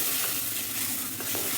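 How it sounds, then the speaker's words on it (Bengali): Cumin and spices frying in very hot oil for a shrimp curry, a steady loud sizzle throughout with faint scraping of a stirring spoon. "একটু মশলাটা ভালো করে কষিয়ে নেব"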